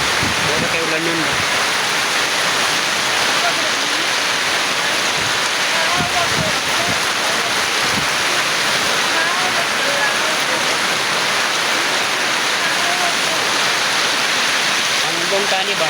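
Heavy rain pours outdoors in a loud, unbroken hiss that fills the whole stretch, with a few faint voices and scattered knocks buried beneath the downpour.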